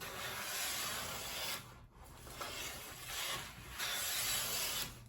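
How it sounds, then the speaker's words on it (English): Veritas bevel-up jointer plane shaving a wooden board, heard as long close hissing strokes of the blade along the wood, three or four passes separated by short gaps, fairly quiet. "So once I have a full shaving, from the whole thing, I should have a straight board."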